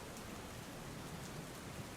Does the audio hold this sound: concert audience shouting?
no